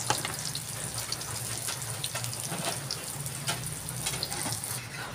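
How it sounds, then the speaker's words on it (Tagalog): Garlic and onion sautéing in a pan for mongo (mung bean) stew, with a steady, moderately loud sizzle and bright crackle running throughout and no voices. "Konting gisa-gisa lang para masarap yung lasa at ang amoy ng bawang at"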